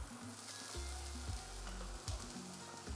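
Vegetables frying in a pan for paneer bhurji, a steady close sizzle with a few stirring scrapes and no talk over it.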